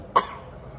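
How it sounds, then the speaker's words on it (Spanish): A small child gives a single short cough, close and fairly loud, followed by a quiet room. "Todavía tiene tos. Ahorita sí ya le dio tos."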